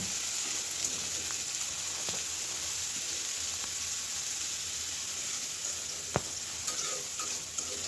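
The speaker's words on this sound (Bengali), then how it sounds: "পেঁয়াজটা ভেজে নিয়ে এখানে আলু আর কাঁচামরিচ দিয়ে দিয়েছেন" Potatoes and green chillies sizzle with fried onion in a pan, giving a steady, even hiss of frying throughout, with a few faint utensil ticks and no voices.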